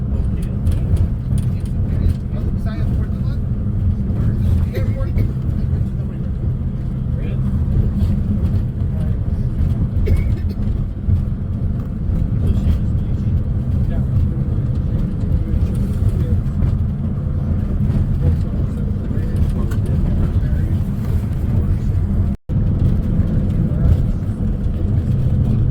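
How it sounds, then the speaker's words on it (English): A small 10-seater bus drives along near Puerto Montt, Chile, its engine a steady close low rumble with road noise throughout, briefly cutting out for an instant near the end. "Okay, off on our little 10-seater bus."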